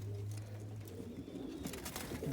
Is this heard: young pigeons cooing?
yes